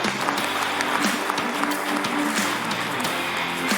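Audience applause for two amateur football teams after a match, a dense continuous clapping from a crowd, fairly loud and steady for the whole stretch with a faint hum beneath.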